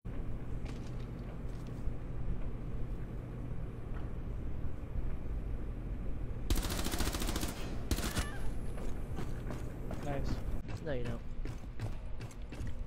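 Gunfire in Rainbow Six Siege on a casino floor: a dense, loud volley of rapid shots erupts midway over steady game ambience, followed by several sharp, separate shots near the end, with voices talking throughout.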